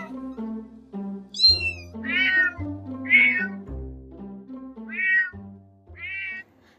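A cat meows repeatedly, about five clear, fairly close meows spaced a second or so apart, with some low background noise between them.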